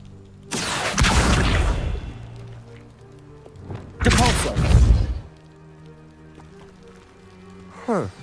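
In the video game Hogwarts Legacy, the Depulso spell sends piled objects toppling in two heavy, rumbling crashes about three seconds apart, each trailing off into a quiet clatter, with a short swoosh near the end.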